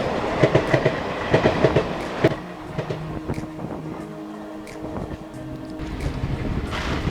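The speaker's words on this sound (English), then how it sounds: "that's the Chennai-Mumbai Express Mail rake sharing heading towards Chennai Central." A Chennai-Mumbai Express Mail train rolls past near Lonavala with loud rhythmic clickety-clack of wheels over rail joints, rumbling car noise and some wind, fairly close and steady throughout.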